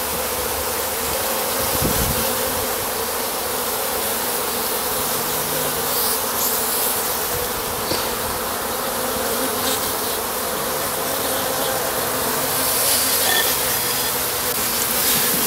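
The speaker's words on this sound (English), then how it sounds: "Big ass drone buzzing me." Honeybees drone steadily around an open top bar beehive during an inspection, with a large drone buzzing close by; the dense, continuous hum stays loud and even throughout with no talking.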